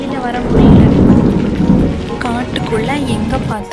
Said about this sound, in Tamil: ஒரு நாள் காட்டுல பயங்கரமான இடி மின்னலோட மழை பெஞ்சிச்சு.